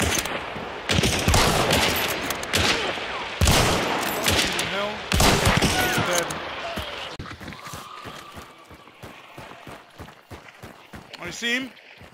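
Rapid gunfire in the Western survival shooter Hunt: Showdown, a dense fusillade of loud cracking shots that later thins into spaced repeating reports, with a player's voice talking over parts of it.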